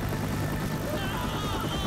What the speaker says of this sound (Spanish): ¡Ha llegado el helicóptero!